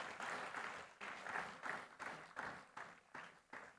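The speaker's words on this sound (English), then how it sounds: "Please give a big round of applause." Audience applause at a medical institute's foundation day awards ceremony, a faint, steady wash of clapping that swells and fades in rhythmic pulses, heard alone without talk.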